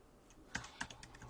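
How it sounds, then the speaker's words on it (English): Typing on a computer keyboard in a quiet room, a short run of soft, close, uneven key clicks with a couple of sharper taps. "And I'm just going to type that in right now."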